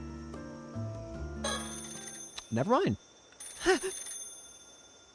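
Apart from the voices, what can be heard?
telephone ringing in Paranormasight video game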